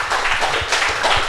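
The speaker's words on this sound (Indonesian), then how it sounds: "Sekali lagi tepuk tangan yang meriah untuk mereka berempat." Clapping from a live audience at a Banyuwangi talk event, welcoming four panel guests; a short, steady patter of many hands at moderate level.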